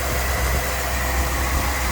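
A 1979 Pontiac Grand Prix with a factory 4-speed idles steadily up close, a loud, even engine rumble with constant low vibration and no talking.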